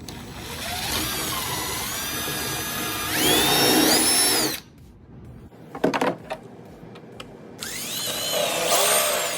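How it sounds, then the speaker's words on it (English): A power drill boring holes into the plastic base of an old cooler, with bursts of whining motor and grinding bit, a quieter gap with a few clicks and knocks in between, then drilling again, close and loud. "So I'm also gonna drill holes into this base, see if I can't just drill like a hole on each side"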